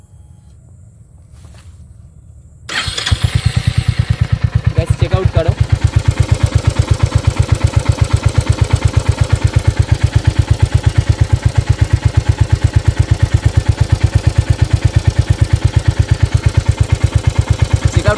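A Royal Enfield Hunter 350 motorcycle engine cranks and fires after a quiet start, then settles into a loud, steady thumping idle heard close up, with someone talking briefly near the start.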